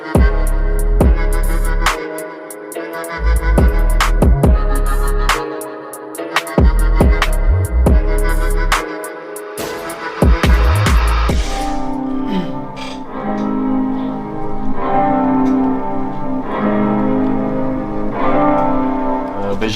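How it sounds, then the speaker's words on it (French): Dark drill beat built on a somber piano melody with booming 808 bass and sharp percussion hits, dropping out and restarting in bursts before settling into a fuller sustained section, loud and alone without talk. "J'ai fait le piano sombre là que tu viens d'entendre."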